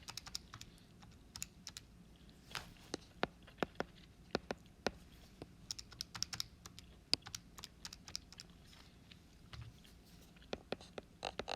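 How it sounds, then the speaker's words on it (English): Calculator buttons pressed in quick, irregular bursts of light plastic clicks, close and fairly faint against a quiet room hum, with short pauses between runs of key presses. "And then I type it all on my calculator."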